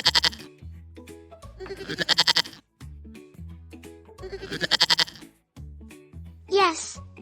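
Sheep bleats in two loud, wavering bursts, each with a deep vibrato, separated by quieter gaps, ending in a short rising higher-pitched cry; close and clear with no talking.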